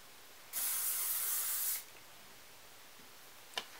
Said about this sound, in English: I still need to kind of spray it in place